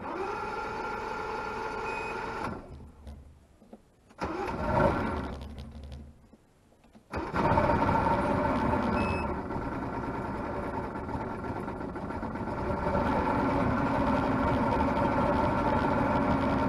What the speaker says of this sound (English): give the engine just a little bit of gas right there to help get it started